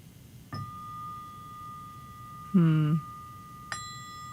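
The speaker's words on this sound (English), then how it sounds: "throughout the show tonight, I am going to ding the bell." A bell or ringing tincture bowl is struck, giving a clear ding with a long sustained ring, followed later by a second strike. A brief low tone sounds between the two.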